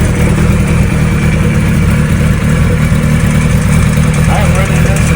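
A restored 1975 Kawasaki Z1 900 motorcycle idles close by, a steady, loud, even engine drone that holds throughout with no revving.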